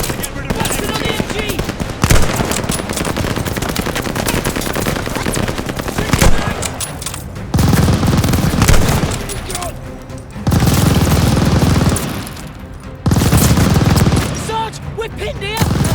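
Sustained machine gun fire from a tower emplacement in the video game Call of Duty Vanguard, loud dense bursts with booming impacts and battle noise that surge and drop in waves, with shouted voices mixed in.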